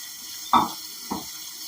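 Two brief splashy gushes of running water, the first louder and sharper, the second softer, as glass pieces are rinsed under a tap.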